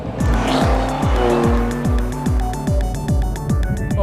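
A 2015 BMW M4 and a 2014 Chevrolet Corvette Stingray lap a race track, engines revving hard in a repeating rise-and-drop pattern as they shift through gears. Tires squeal loudly throughout the near, continuous run, with no talking.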